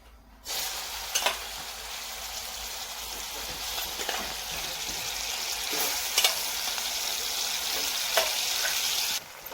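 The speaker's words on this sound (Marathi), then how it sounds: "तर बघू शकता छानपैकी कढईमध्ये ती उकळत आहे" Steady hissing sizzle of lemons cooking in hot oil in a wok, with occasional clinks and scrapes, continuous for several seconds.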